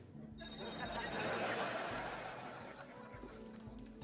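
A mobile phone rings in a sitcom scene, a repeating electronic ringtone audible at the start under a burst of studio audience laughter and a voice talking.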